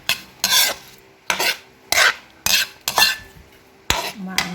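Pakbet vegetables are stirred in a pan with a utensil, in a series of about eight scraping, clattering strokes at an uneven rhythm, close and fairly loud, with faint sizzling between them.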